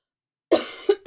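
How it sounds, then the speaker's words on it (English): A lecturer clears her throat in a quick, rough burst followed by two shorter guttural rasps, close up and loud against silence. "I have to clear my throat"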